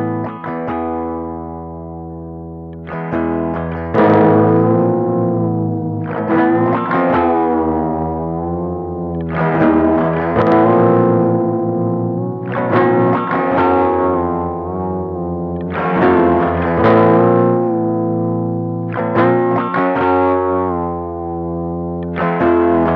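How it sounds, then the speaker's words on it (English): A Hungry Robot Wardenclyffe effects pedal in glitch mode shifts a sustained, distorted guitar tone through random stepped sample-and-hold modulation. Repeating swells and jumps in pitch and filtering run loud and steady throughout, with no talking. "glitch gives us an unpredictable sample and hold type of sound"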